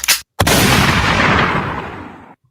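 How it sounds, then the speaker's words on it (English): A single loud gunshot sound effect cracks out after a brief clipped blast and a short gap, then its long booming echo fades away over about two seconds. "I don't know why that was a gunshot."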